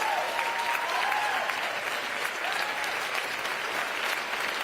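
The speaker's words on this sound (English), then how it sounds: "Let's give them all a big round of applause." A large audience applauds steadily at a Kamala Harris speech, loud and continuous crowd clapping, with faint whoops and cheers rising within it.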